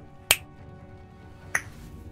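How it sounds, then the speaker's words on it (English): Two crisp finger snaps ring out about a second apart, sharp and close, over a quiet room background. "I snap my fingers and sparks fly a little bit"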